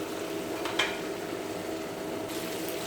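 Curry leaves, tomato and onion sauté in a pan for Chettinad potato masala, giving a soft, steady sizzle with a brief clink of a utensil early on.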